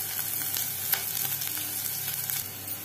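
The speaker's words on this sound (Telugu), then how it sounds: "ఆవాలు, జీలకర్ర, మెంతులు వేసుకొని కలుపుకొని ఫ్రై అయ్యాక ఉల్లిపాయ పచ్చిమిర్చి వేసుకున్నాను." Oil crackles and sizzles steadily as a tempering of mustard seeds, cumin, fenugreek, onion and green chillies fries for buttermilk rasam, with a few sharp pops and light stirring, close and unbroken.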